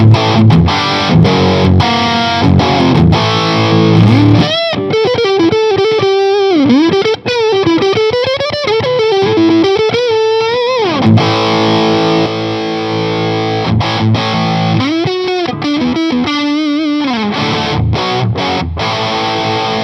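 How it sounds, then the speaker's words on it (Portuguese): Electric guitar played through a Two Rock Amethyst amp with its boost switched on, a loud, driven, sustained tone mixing strummed chords and bending lead lines, steady and close with no talking. "Agora sim eu vou pôr o boost dele, nem vou mexer no volume"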